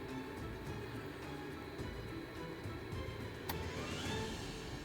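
A diesel heater in a van runs steadily after start-up, giving a continuous close whirring hum with a faint ticking pump pulse and one brief sharp click partway through.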